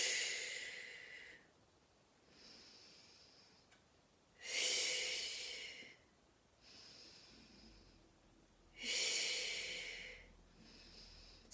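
Slow, rhythmic breathing during a full-body pilates exercise: loud airy inhales alternate with softer exhales in a regular cycle, close and with no talking.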